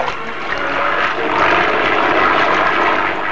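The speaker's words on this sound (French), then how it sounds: "Prêt à décoller." A propeller aircraft engine runs ahead of takeoff, a loud, steady, droning roar that holds level for the whole stretch with no talk.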